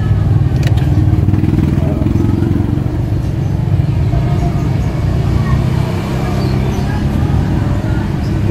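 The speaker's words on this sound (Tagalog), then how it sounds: "Start na yung makina. Mataas yung kanyang idle, tapos bababa." A Toyota Innova engine idles steadily just after starting, a loud continuous low rumble that runs unbroken throughout, slightly rougher at first and then settling, with no talk over it.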